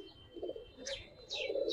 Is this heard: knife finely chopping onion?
no